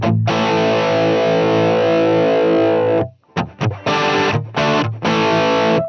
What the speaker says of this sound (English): So that's the sound of the amp as it just comes up with no tweaking at all,